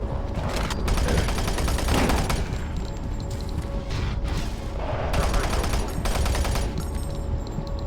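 Machine gun fire in the Doom 3 BFG Edition shooter, a dense barrage of gunshots and crashing impacts that runs the whole stretch amid loud game noise, with no clear talk over it.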